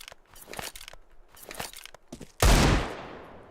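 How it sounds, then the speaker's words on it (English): Bursts of gunfire in a first-person shooter video game: several short volleys of rapid shots, then one loud, sharp blast that rings out and fades. "The shooting feels different too."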